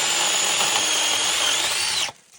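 An 8-inch mini chainsaw cuts through an oak branch while trimming an apple tree, giving a loud, steady, close-up motor whine for about two seconds before it cuts off abruptly.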